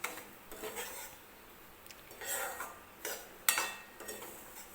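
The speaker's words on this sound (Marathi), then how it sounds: "तर हा रवा जो आहे तो आपल्याला तुपामध्ये व्यवस्थित भाजून घ्यायचा आहे." Semolina is roasted in ghee and stirred with a spoon against a pan for a mango sheera, giving soft scraping and rubbing strokes at irregular intervals with one sharper metallic clink near the end.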